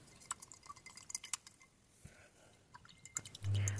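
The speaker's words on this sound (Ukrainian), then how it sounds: "Висипаю і буду розмішувати до повного розчинення." Fertilizer is stirred into a small amount of warm water in a container, with faint scattered clinks and light liquid swishes, quiet and close, ending in a short louder thump.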